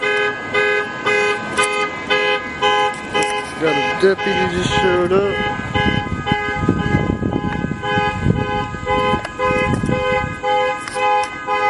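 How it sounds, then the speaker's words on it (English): A nearby car alarm blares continuously with repeating electronic tones, loud and steady, while someone talks over it outdoors. "Somebody's car's going off."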